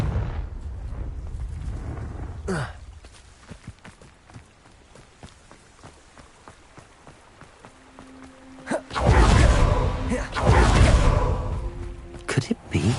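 A Confringo blasting spell exploding in Hogwarts Legacy, heard as two loud, roaring bursts late on, after a stretch of quieter footsteps and scuffling, with a voice speaking now and then.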